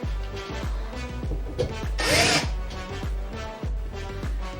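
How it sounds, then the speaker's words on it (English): A power drill whirs in repeated short bursts into a ceiling, speeding up and winding down, with a harsh grinding stretch midway as it bores into material. "Now we're going to drill wherever we marked and install the provided anchors"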